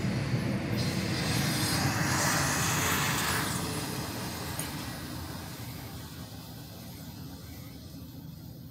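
A long eastbound CSX freight train rumbles steadily past nearby in Versailles Borough, Pennsylvania, with a broad, heavy roar that slowly fades as it moves away.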